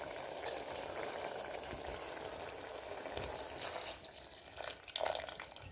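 Water poured into mutton varuval frying in a pan gives a steady rushing splash mixed with sizzling that swells slightly toward the end. No one speaks.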